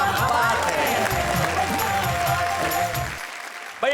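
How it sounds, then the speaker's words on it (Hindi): Studio audience at a comedy poetry show applauding the poets, a dense burst of clapping that fades after about three seconds before a brief voice. "जरा तालियां बजाइए, ठहाके लगाइए उन कवियों के लिए"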